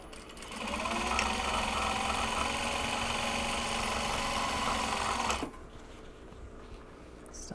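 A sewing machine runs steadily while top stitching Japanese fabric for large box bags, a close, even mechanical whir that stops abruptly near the end, followed by quiet room tone.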